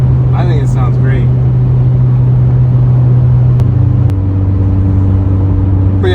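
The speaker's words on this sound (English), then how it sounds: "Hopefully you got to hear the exhaust." A Honda Civic Si or Acura Integra with an MBRP exhaust drives at night, its steady low exhaust drone holding throughout and dropping in pitch partway as the engine note shifts, with brief voices near the start.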